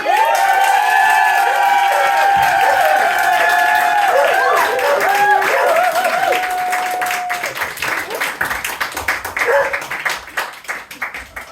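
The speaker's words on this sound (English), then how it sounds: "can we please give a massive cheer for our final act of the first half?" A stand-up comedy crowd at an International Women's Day show bursts into loud, sustained cheering, whoops and clapping that ring on close and full, then thin into scattered claps.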